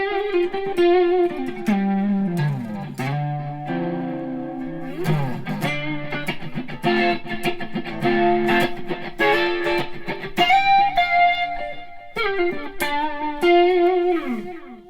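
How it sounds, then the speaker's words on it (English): Enya Sonic electric guitar played alone with distortion and delay, bluesy swamp-style phrases of sustained bent notes and choppy chords ringing out with echo tails, close and loud. "a little bit more distortion with some delay"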